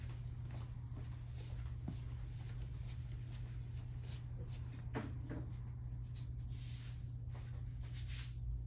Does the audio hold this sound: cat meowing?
no